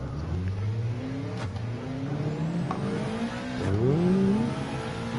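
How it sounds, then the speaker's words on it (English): Vintage Jaguar race car engine revving near Le Mans, its pitch climbing through gear changes and surging louder toward the end, with no voices over it. "Vintage Jaguar race car."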